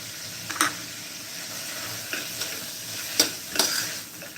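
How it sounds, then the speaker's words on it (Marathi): A masala mixture being stirred in a pan: soft scraping with a few sharper clinks of the spoon against metal over a faint low sizzle, quiet and close, with no talking. "छानपैकी असं मिक्स करून घ्यायचा आहे मसाला"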